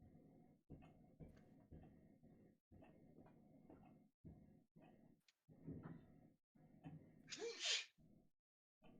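A single sneeze near the end, sharp and fairly close, following a stretch of quiet murmuring and small ticking sounds in a room, with faint talk underneath.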